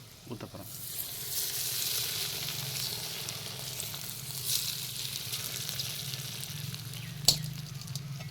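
Spices crackle and sizzle in hot oil for tempering a lemon pickle, a steady close frying hiss with occasional stirring scrapes and a sharp clink near the end, no talk over it.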